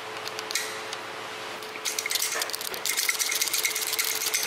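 Close, busy mechanical rattling comes from a BMW 5GT F07 engine with a stretched timing chain slapping its guide, quieter at first and then growing denser and louder over a steady running hum.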